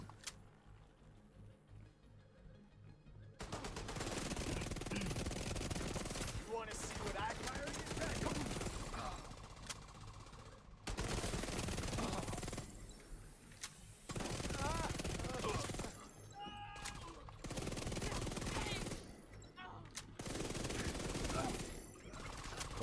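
Sustained bursts of automatic gunfire in the shooter game The Division 2, long rapid volleys broken by short pauses, loud and dense with layered game effects throughout.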